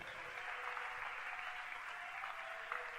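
Church congregation applauding during worship, a steady continuous wash of clapping from many hands, fairly distant and even throughout.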